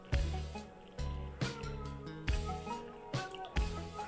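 Water sloshing and squelching against wet clay inside a pot on a spinning potter's wheel. Repeated soft wet slaps and drips about every half second, close and quiet.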